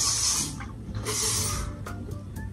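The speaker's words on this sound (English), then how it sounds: "Actually, let me spray them with hairspray now." Hairspray sprayed onto freshly styled curls in a short hissing burst, then a second longer burst, followed by a few small clicks and rustles, fairly quiet and close with no talking.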